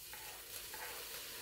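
Chopped tomato sizzles and hisses steadily in a pan with softened onion and garlic, a close, continuous frying crackle with faint stirring and no voices.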